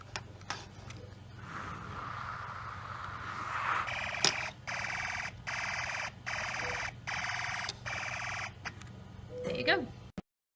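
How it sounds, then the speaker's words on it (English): A homemade gas sensor alarm built on a Particle Photon board sounds off, first as a steady electronic tone, then as a run of loud, evenly spaced pulsing beeps that stop abruptly. "it makes an alarm go off."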